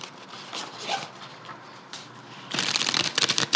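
Tarot cards are shuffled by hand in riffling bursts, soft at first and then a brisk, loud stretch of rapid flicking near the end.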